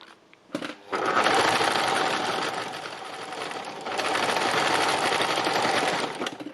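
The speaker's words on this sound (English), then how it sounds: "I'm just doing straight stitches up and down, going quite close into the silver" A sewing machine runs straight stitches up and down through fabric close to silver on a stitched seascape. A loud, continuous rapid whirr starts abruptly, eases briefly midway, then picks up again before stopping.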